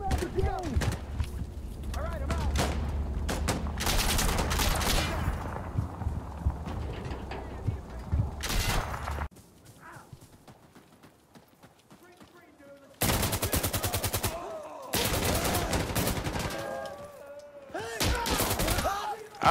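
Gunfire in the video game Insurgency Sandstorm, dense bursts of automatic shots in several loud stretches separated by a quieter pause, mixed with voices talking over the action.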